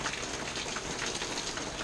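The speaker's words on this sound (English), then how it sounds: "rainy, dreary weather." Steady rain in dreary weather hisses evenly and softly for the whole stretch, a constant broadband patter with no voices or other distinct sounds.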